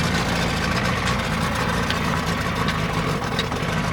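Outboard engine on a 1967 Sears boat running steadily in gear on the water, a close, loud continuous drone with no breaks.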